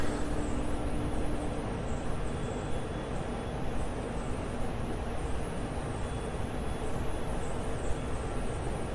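Steady broadband roar of an Su-25 jet's engines in a DCS flight simulation, holding constant and loud as the aircraft accelerates into its climb after takeoff.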